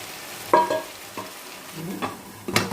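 Tomatoes and ginger garlic paste frying in a pan for prawn biryani, with a low steady sizzle and a few sharper stirring scrapes and spatters near the start and end.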